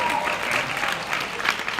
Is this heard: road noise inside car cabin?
no